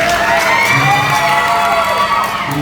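A crowd at an organizational gathering cheers and shouts loudly and steadily for honored leaders, the sound dense and continuous for the whole stretch, with no clear speech above it.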